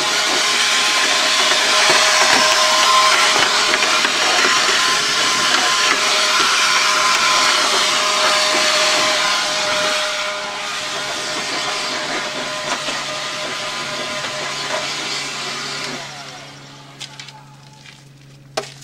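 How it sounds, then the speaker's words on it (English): A Ryobi 18-volt electric blower, used on a riding mower job, roars with a loud, steady broadband rush of air for about sixteen seconds, then cuts off abruptly, leaving quiet workshop sounds. "this is just a Ryobi 18-volt electric blower."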